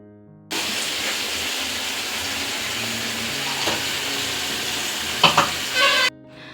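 Masala fried and stirred in a wok-style pan while cooking a snake gourd palya, a steady close sizzle with scraping stir strokes near the end, no voices.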